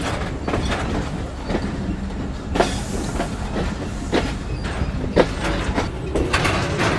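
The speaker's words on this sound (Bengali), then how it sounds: "আমরা 18 মিনিটের বিলম্ব নিয়ে ডিপারচার নিচ্ছি রাজশাহী বিভাগের রাজশাহী রেলওয়ে স্টেশন থেকে" The Banglabandha Express pulls out of Rajshahi railway station with rhythmic wheel clatter over rail joints, occasional sharper clanks and a steady rolling rumble close by.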